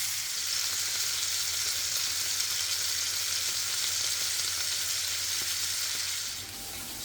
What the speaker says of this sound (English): Sizzling steaks. Is there any better sound and smell?